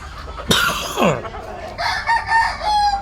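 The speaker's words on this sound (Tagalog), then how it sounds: "napakaganda ng kanyang mga manok" A rooster crows loudly nearby on a farm, followed by chickens clucking and squawking in short bursts, with faint background voices.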